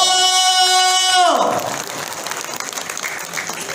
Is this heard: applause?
yes